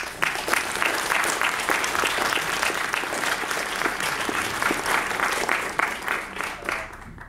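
Steady, dense audience applause welcomes director Tom Geens at a TIFF 2015 film screening introduction, continuous clapping throughout that thins slightly near the end.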